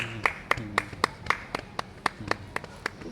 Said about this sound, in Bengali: বাহ, তুমি হাততালি দাও।